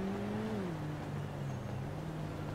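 Motorcycles passing on a road, heard as a steady droning engine hum that slides down in pitch as they go by, moderately loud over continuous road noise, with no talk.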